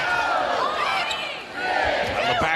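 Loud arena crowd noise at a women's college volleyball match, Nebraska against Northwestern, with the roar swelling steadily and broadcast commentary talking over it throughout.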